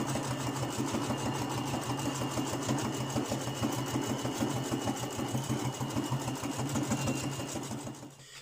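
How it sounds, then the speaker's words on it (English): A sewing machine stitches the bottom of pockets onto a pouch panel, a close, steady rapid clatter of needle strokes that runs for several seconds before stopping, with no voices. "I start by stitching the bottom of the pockets onto this panel first."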